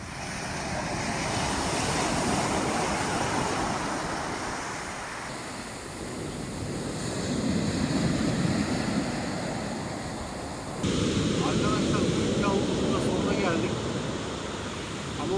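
Rough sea surf roars continuously with a broad, churning rumble that swells and eases, as if wind-driven waves are breaking close by.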